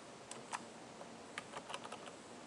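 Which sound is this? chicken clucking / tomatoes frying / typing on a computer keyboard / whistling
typing on a computer keyboard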